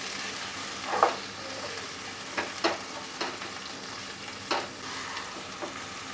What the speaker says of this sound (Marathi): तर यामध्ये आपण टोमॅटो घालूया। ही सुद्धा आपल्याला परतून घ्यायचे आहेत।